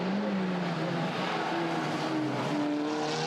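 Race cars lapping Oulton Park circuit braking into a double-apex right-hander, engines droning with shifting pitch lines and a brief tyre squeal, loud and sustained without talk.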